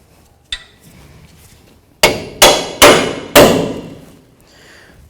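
A hammer striking a punch to drive a front strut bolt out of a 2003-2009 Toyota 4Runner, one sharp early tap followed by four loud ringing metallic blows, each trailing off, close and without voices.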